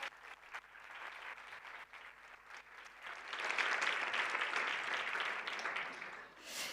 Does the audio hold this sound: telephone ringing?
no